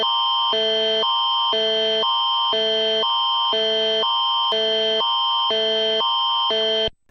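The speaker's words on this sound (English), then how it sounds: "It's an Amber Alert, guys." An Amber Alert emergency tone blares in a regular pulsing pattern, loud harsh two-tone buzzing bursts repeating about every half second, alone until it cuts off at the end.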